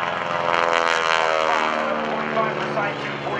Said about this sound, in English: A lot of Stearmans have been modified with more powerful engines, but not John Mohr.